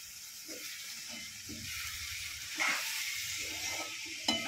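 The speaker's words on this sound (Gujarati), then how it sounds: "જયમીની શાક વઘારે જ પાપડીનું." Papdi flat beans being tempered in hot oil in a Gujarati home kitchen give off a quiet, steady sizzling hiss, with a few soft clicks and knocks of a utensil scattered through it.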